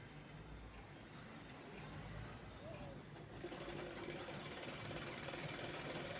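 A sewing machine stitches the hem of a woman's trouser, running in a steady fast mechanical rattle that picks up partway through, fairly faint and close, with no speech.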